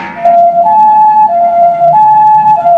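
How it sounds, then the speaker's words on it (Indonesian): A toy ambulance siren wailing loud and close in a two-tone electronic pattern, alternating a lower and a higher pitch over a few seconds, with no talking. "Wow, ternyata ini adalah mobil ambulan."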